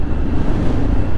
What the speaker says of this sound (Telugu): గాలి మాత్రం బీభత్సంగా అయితే వస్తూ ఉంది.